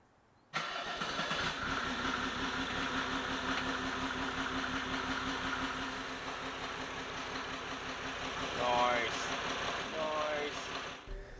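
A cold Mercedes W124 diesel engine with low compression in one cylinder starts abruptly and settles into a steady, clattering idle with a rapid knocking rhythm, running close and unbroken for about ten seconds, then cuts off.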